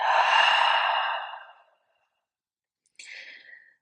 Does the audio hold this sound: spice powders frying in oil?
no